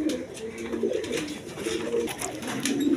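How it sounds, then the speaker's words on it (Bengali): A pair of green Giribaz high-flying pigeons coo repeatedly in soft, low, rhythmic calls, close by, with faint background noise. "দর্শকবৃন্দ এখানে এক পেয়ার হাই ফেলিং গিরিবাজ কবুতর দেখেন"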